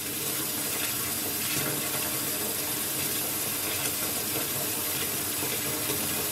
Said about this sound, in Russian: вода неумолимо прибывает